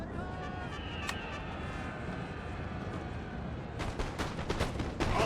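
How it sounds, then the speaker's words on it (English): Artillery booms and rumbles across a battlefield in Napoleon: Total War, a dense, continuous roar of distant cannon fire, with sharper cracks near the end. "Artillery."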